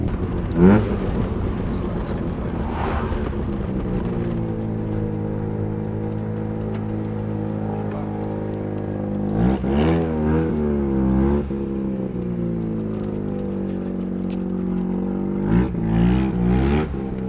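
Mazda RX-7 build with its wastegate turned up high, cruising on the road: a steady, droning engine hum inside the car that swells into short revving surges partway through and again near the end.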